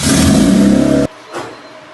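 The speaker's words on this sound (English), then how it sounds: "I've been trying to start this thing for like a week." A turbocharged Honda Civic hatch engine, fitted with old injectors, revs loudly and close for about a second, then cuts off abruptly, leaving quiet with a faint bump after.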